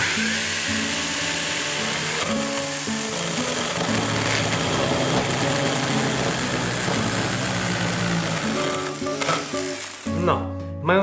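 Continuous loud buzzing, grinding noise of a power saw cutting into a wooden log for a Swedish torch, steady for most of the clip before briefly cutting out near the end.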